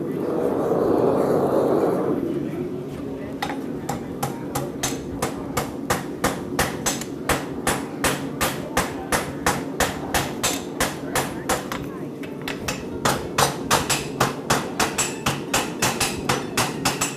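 After a burst of noise, a hammer strikes hot steel in a steady, rapid series of sharp ringing blows, close and fairly loud, at a farrier clinic.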